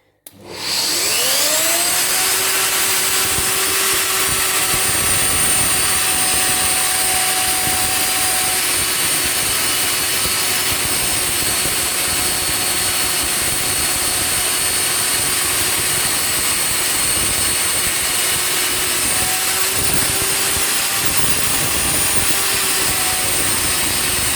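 Steady, loud, continuous high-pitched machine whir during work on an Ursus C-360 tractor gearbox part, running unbroken for over twenty seconds after a quick spin-up, with no voices.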